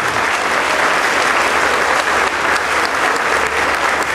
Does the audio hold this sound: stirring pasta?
no